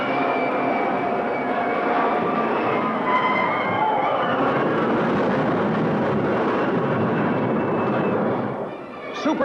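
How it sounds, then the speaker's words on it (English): A supersonic jet aircraft roars steadily and loudly overhead, its broad dense rumble holding nearly constant throughout before easing slightly at the very end. "Supersonic jets cannot catch him."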